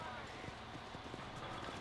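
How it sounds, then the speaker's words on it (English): A horse gallops in the Red Dead Redemption video game, with rhythmic hoofbeats thudding faintly under a dense wash of game noise. "Get on the war horse."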